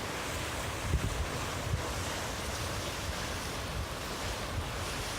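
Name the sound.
ocean waves breaking on a Bermuda beach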